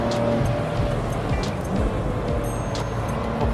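A car on a driving-centre track is heard up close as its engine drones steadily and picks up power into a curve, with road and tyre noise throughout.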